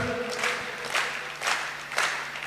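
At a Hindi comedy poetry recital, the audience claps in four short rhythmic bursts, moderately loud, with a faint hum underneath.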